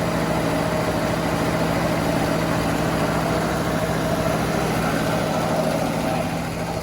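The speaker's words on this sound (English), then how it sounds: "Idle's a bit high, but it could be the choke on it, I guess." An old Holden panel van engine idles on choke at a slightly high speed, a continuous close, droning hum with a steady low tone throughout and no talking.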